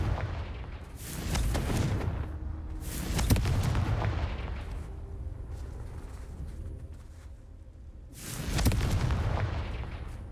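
The Confringo explosive spell in Hogwarts Legacy goes off in several heavy booming blasts, spaced apart, each one loud and rumbling before it fades away.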